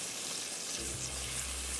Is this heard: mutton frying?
yes